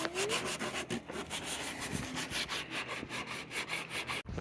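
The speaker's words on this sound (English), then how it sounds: "scraping the paint off the old teak right now" Paint is scraped off old teak on a sailboat with continuous rhythmic rasping strokes, close and steady, without pauses or talk.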